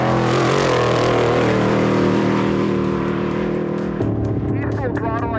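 A diesel truck racing at full throttle in a desert race gives a loud, sustained engine roar close by, with the pitch shifting partway through as it keeps pulling hard.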